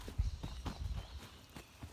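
Horse hooves clip-clop on a trail ride after a night of storms, with a steady, close series of hoof strikes over quiet background.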